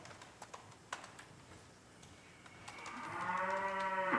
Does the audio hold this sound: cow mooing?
yes